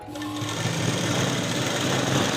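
A sewing machine stitches a churidar pant, running in a steady, fast, continuous whir up close with no pauses and no talking.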